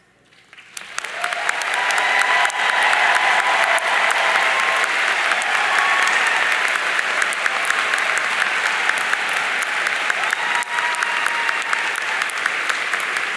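Audience at a biology and zoology graduation ceremony applauds first-generation graduates, clapping swelling quickly from silence into loud, sustained, dense applause that holds steady for over ten seconds.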